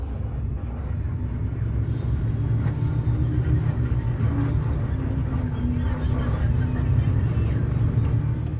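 An ALS Super Executive bus sits in a traffic jam on the Medan-Padang road, its engine giving a steady low rumble with faint road and traffic noise around it, unbroken throughout.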